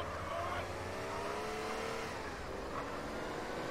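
A car engine revs in the game GTA San Andreas, a steady droning hum whose pitch glides up and down beneath a busy mix of game sounds.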